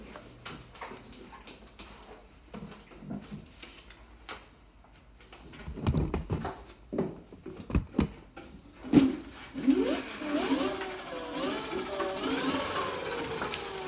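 An electric bike motor is revved up during a brake adjustment, preceded by clicks and handling knocks, then a rising, wavering whine building over the last few seconds at close range.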